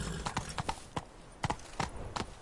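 Roach, the horse in The Witcher 3: Blood and Wine, trots with a rapid, even clip-clop of hooves, close and distinct over a soft game ambience.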